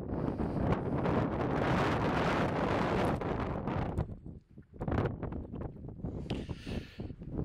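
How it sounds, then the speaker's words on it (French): Strong, steady wind buffets the microphone on the Dents des Portes mountain summit on a cold late-October day, a continuous loud roar that briefly dips near the middle before gusting back up. "Il y a un vent là, il fait pas chaud."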